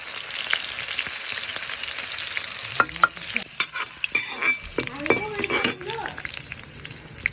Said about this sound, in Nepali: म यहाँ कराईमा चाहिँ मजाले आलु भुट्न गइरहेको छु